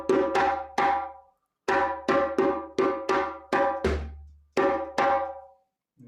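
A hand drum plays the Saraya Kassa rhythm, mixing open tones, sharp slaps and deep bass strokes in short rhythmic phrases separated by brief pauses, close and clear with no talking.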